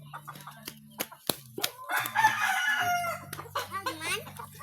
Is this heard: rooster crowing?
yes